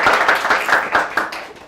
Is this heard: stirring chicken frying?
no